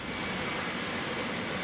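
A jet engine in a home-cockpit flight simulator spools up as engine one lights on the ground. The roar is broad and steady, with a thin high whine running through it and no voices.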